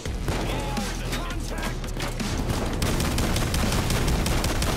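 Minigun fire in the heist shooter Payday 2, a loud, relentless roar of rapid shots that fills the whole stretch without a pause, mixed with other combat noise and a voice at the start.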